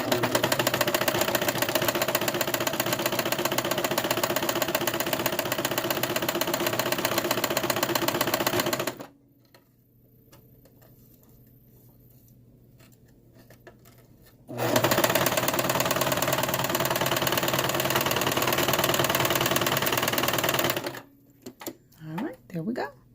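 A sewing machine stitches a sleeve into the armhole of a cocktail dress, running in loud, steady, rapid bursts close by, stopping for a few seconds of near quiet before starting again, then slowing to short final stitches.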